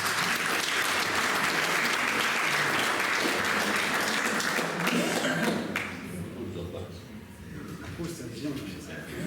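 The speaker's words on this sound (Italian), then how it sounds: "Un applauso a Francesco." A crowd applauds steadily and loudly at a poetry reading, then the clapping thins and fades toward the end.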